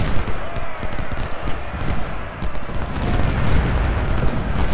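Cannon artillery fire in the Civil War strategy video game Ultimate General: Civil War, a dense rumbling barrage of booms and thuds rolling continuously with no clear gaps.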